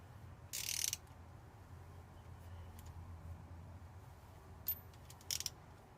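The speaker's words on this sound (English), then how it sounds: "Get your ratchet or a spanner, whatever you find easier, and just wind it in gently." A tap from a tap and die kit is wound into a damaged thread with a ratchet, giving a few quiet, scattered ratcheting clicks over a low hum. Two brief bursts of clicks stand out, one near the start and one near the end.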